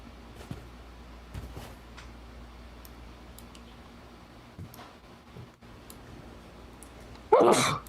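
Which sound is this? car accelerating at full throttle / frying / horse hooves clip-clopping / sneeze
sneeze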